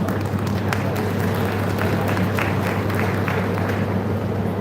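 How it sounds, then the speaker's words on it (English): An audience at an international academic conference applauds the guests: a sustained, dense round of clapping that stays even and fairly loud throughout, with a low steady hum underneath. "So I expect a good round of applause for the respected guests"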